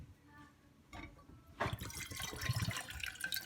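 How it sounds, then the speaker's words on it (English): A cup of water poured from a lidded container for homemade play-dough, quiet at first, then a louder gurgling splashing stream takes over and runs to the end. "the first step, guys, is water. We're gonna open the lid and pour all of it."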